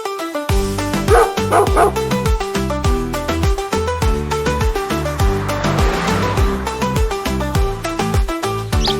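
Sung nursery rhyme with a steady beat where a voice imitates a dog barking, repeated woof-like sounds over the melody.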